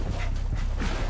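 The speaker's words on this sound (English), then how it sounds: "Is that a dog?" Dog in The First Descendant video game, heard as short yelps and whimpering barks amid busy game noise, close and fairly loud, with no talk.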